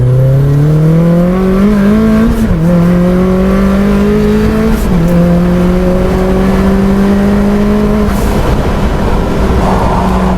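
A turbocharged, shed-built rear-wheel-drive Mazda MX-5 Miata on low boost of 10 psi accelerates hard and close, the engine note climbing steadily through gear after gear with short dips at each shift.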